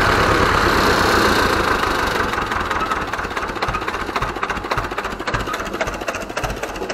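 Ursus C-325 tractor engine running loud and close, easing down from higher revs into a steady, throbbing idle with a rough mechanical knock.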